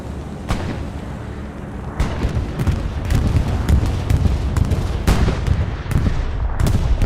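Bombing run in the WWII video game Hell Let Loose: a steady roar of explosions and gunfire, with sharp cracks and booms landing irregularly every second or so over dense rumbling battle noise.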